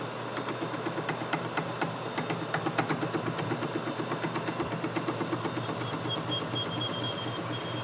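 A machine drills a brass machinist jack to tap size, giving a steady mechanical drone with rapid, regular ticking that runs throughout.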